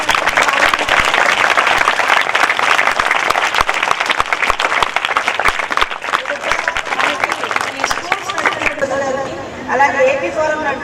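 An audience at a sports festival for differently abled children breaks into loud, dense applause that keeps going steadily, then thins as a voice and some music come up near the end.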